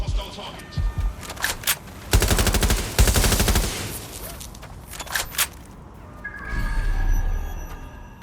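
Automatic gunfire in the video game Watch Dogs: Legion, with two loud sustained bursts of rapid shots, scattered single cracks before and after, and faint game voices in the background.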